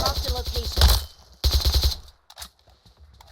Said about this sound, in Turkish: Arkadan bir yerden atıyor herhalde normal adam